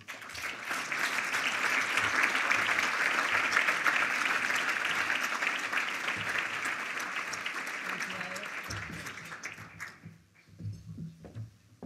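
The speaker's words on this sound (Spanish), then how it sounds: "Un aplauso para Manu Planelles" An audience at an energy awards ceremony applauds steadily for several seconds, a dense wash of clapping that thins out and dies away near the end.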